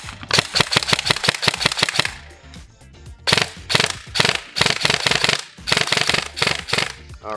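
A Rocket Labs airsoft AEG fires rapid full-auto bursts, each a fast mechanical rattle of shots, with short pauses between strings, loud and close.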